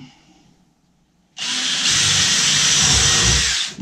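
A Kreg pocket-hole bit, sharp and cutting, bores into a wood workpiece: after a quiet start the drill kicks in abruptly with a loud, steady, high whine that holds for a couple of seconds and then stops.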